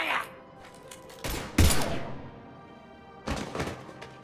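Gunfire in the video game Mass Effect 3 sounds as a few sharp, heavy shots spaced apart, each with a short booming decay, amid quieter background game sounds.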